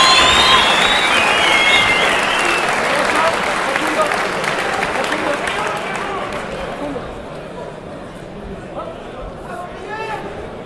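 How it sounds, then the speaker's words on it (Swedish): A crowd at a Muay Thai fight event in Malmö gives loud, sustained applause and cheering that gradually fades over about ten seconds, with whistles early on and an announcer speaking over it. "Bättre kan ni, publiken, ge dem en riktigt varm applåd!"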